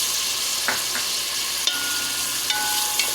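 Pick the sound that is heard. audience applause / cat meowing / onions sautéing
onions sautéing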